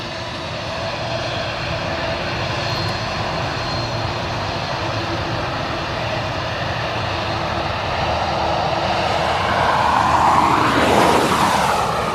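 An airliner taxis at East Midlands Airport with a steady, droning engine hum and broadband roar that swells louder toward the end as it moves nearer.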